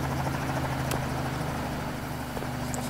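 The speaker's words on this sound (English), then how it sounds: "Falcon, literally Falcon from Star Wars." A Millennium Falcon–style spaceship from Star Wars in a Roblox game gives off a steady, loud engine drone, an unbroken hum with a low rumble that holds even for the whole stretch, with no talking.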